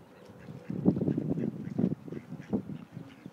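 Several ducks quack in short bursts among other waterfowl, a few calls standing out close and fairly loud over a steady background of birds.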